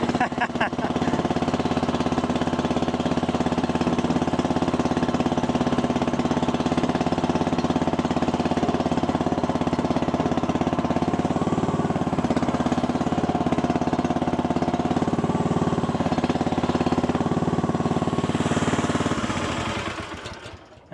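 A Chinese mini skid steer's small engine runs steadily and loud at close range for about twenty seconds, a continuous mower-like drone, then cuts off abruptly near the end.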